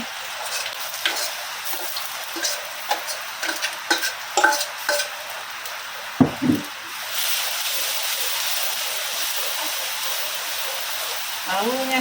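Shallots, garlic and ginger sautéing in a pan with a soft continuous sizzle, scattered spatula taps and scrapes near at hand, and a voice speaking briefly over the cooking.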